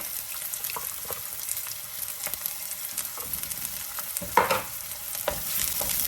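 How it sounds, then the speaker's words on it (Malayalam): Sliced onion with crushed ginger and garlic sautéing in a pan, a soft continuous sizzle with occasional scrape-and-stir bursts from a spoon, fairly quiet and close. "സവാള വഴക്കേണ്ട ആവശ്യമില്ല ഒരു ഒന്ന് രണ്ട് മിനിറ്റ് വഴക്കിയാൽ മതി"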